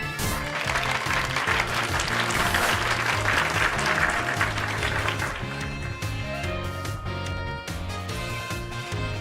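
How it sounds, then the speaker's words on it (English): Sustained applause and clapping in the video game Pokémon Scarlet fills the whole stretch, dense and steady, with a musical backdrop underneath and no voices. "Give Pikachu a round of applause"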